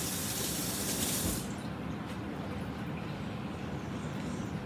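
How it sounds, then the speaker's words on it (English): Water runs from a kitchen tap as hands are washed, a steady hissing rush for about a second and a half that then drops to a softer, continuous flow nearby. "So let me wash my hands"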